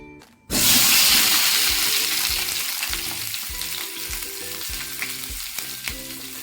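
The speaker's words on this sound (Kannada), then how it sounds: "ಎಣ್ಣೆ ಕಾದ್ಮ್ಯಾಗ ನಾನು ಟೊಮ್ಯಾಟೊ ಕಾಯಿ ಹಾಕ್ಕೊತೀನಿ" Green tomatoes hit hot oil in a pan and burst into a loud, steady sizzle and crackle that stays strong throughout, with soft stirring knocks and clinks of a utensil against the pan.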